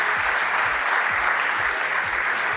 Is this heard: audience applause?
yes